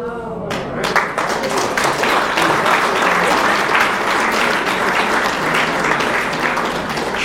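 Sustained audience applause at a lecture by Pierre Gilbert, dense steady clapping from a large crowd filling the room for several seconds after a brief quieter start.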